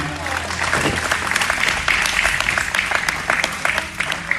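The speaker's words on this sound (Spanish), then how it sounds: "Dale un aplauso fuerte al Señor." A church congregation gives loud, sustained applause at an evangelistic service, a thick continuous clatter of many hands with some voices and shouts rising through it.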